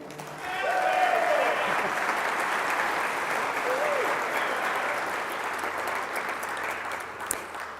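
Audience applause at a 2025 chemical, biological and environmental engineering graduation ceremony, a steady wash of many hands clapping that swells early and holds for several seconds, with faint voices mixed in.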